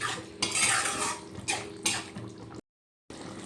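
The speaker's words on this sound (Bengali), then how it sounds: "ঢাকাটা খুলে দিয়ে একটু ভালো করে নেড়ে দিলাম।" A curd and onion curry is stirred in a pan with a metal spoon, giving a few close scraping and clinking strokes over a low bubbling simmer, then a brief gap of silence.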